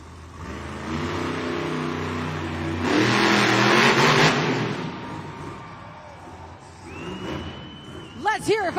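The Gravedigger monster truck engine refires and revs in an arena at a Monster Jam event, roaring in loud swells under an announcer's amplified voice and crowd noise.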